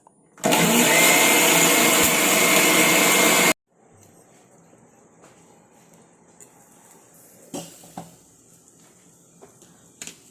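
Mixer grinder grinding curry paste with curd for an Onam Sadhya dish, running loud and steady for about three seconds before cutting off abruptly, followed by quiet kitchen clatter.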